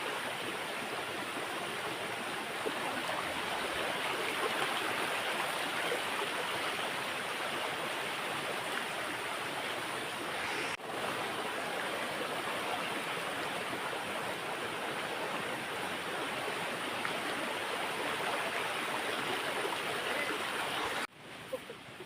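Water pouring down the Insuli waterfall near Sawantwadi gives a steady, dense, hissing rush that fills the whole span, loud and unbroken apart from a couple of brief dropouts.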